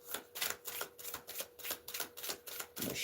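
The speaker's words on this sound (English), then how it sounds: "I'm going to shuffle here and shuffle." Rapid riffle-like bursts of tarot cards being shuffled for a reading, repeating in a steady rhythm for several seconds, close and fairly loud with no talking.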